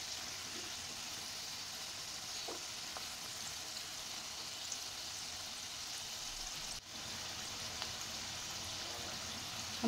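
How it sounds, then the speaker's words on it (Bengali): Mini samosas deep-frying in oil over low heat, a quiet, steady bubbling sizzle with faint pops and a soft brief knock partway through, no voices. "এই যে একটু ডুবো তেলে ভাজতে হবে"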